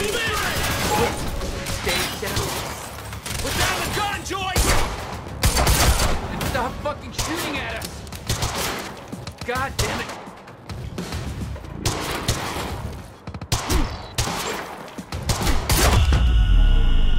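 Gunfire in the video game Quantum Break, with repeated shots and volleys in a chaotic firefight, loud and close, mixed with thuds and debris and with some voices shouting during it.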